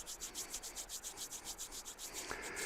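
Knuckles rubbing briskly back and forth across the hands in a qigong self-massage, a steady rhythmic swishing of about a dozen strokes, close and fairly soft, with no talking.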